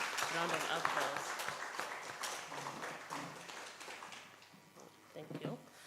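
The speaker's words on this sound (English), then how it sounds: "Please, round of applause." Audience at a regional health assembly applauding to welcome a keynote speaker, a fairly faint wash of clapping mixed with voices that fades toward the end.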